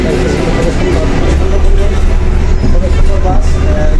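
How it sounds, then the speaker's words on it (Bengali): The cabin of a moving metro bus fills with a loud, steady low engine rumble and road noise throughout, while passengers murmur in the background. "মেট্রো বাসে আমি আছি এখন,"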